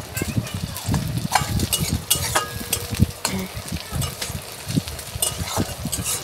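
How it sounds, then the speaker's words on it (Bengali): Chopped onions fry in a pan for a fish curry, giving a busy, crackling sizzle with scattered sharp spatters and occasional scrapes, close up and steady throughout. "পেঁয়াজগুলো লাল লাল করে ভাজবো"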